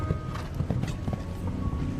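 Hooves clip-clop rhythmically on the arena footing as a horse canters round a show jumping hunter class course, close and steady with a faint snort of breath.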